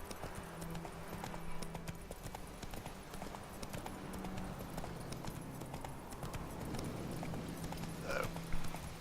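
Horse hooves clip-clop at a steady gallop in The Witcher video game, a continuous rhythmic patter over game ambience with an occasional faint whinny near the end.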